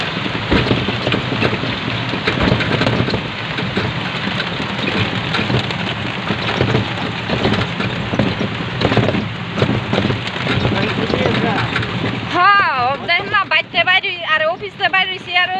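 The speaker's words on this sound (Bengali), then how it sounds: "বৃষ্টি পড়তেছে প্রচুর।" Heavy rain pours down in a sudden downpour, a loud, steady hiss with a person talking over it nearby.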